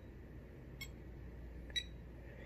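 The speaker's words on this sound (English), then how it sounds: "You can hear the beeping." Two short, high electronic beeps about a second apart from a Star Trek IV photon collector prop replica, over a faint steady hum, quiet and otherwise still.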